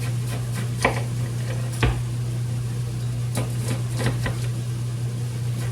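A kitchen knife chops vegetables and peppers on a cutting board for a beef stir fry, with a handful of sharp, uneven knocks close by over a steady low hum, with no talk.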